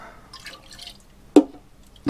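Liquid lawn fertilizers such as Activate Mate and Seaweed Secrets being measured out, heard as two sharp, close drips or splashes about a second apart in an otherwise quiet space.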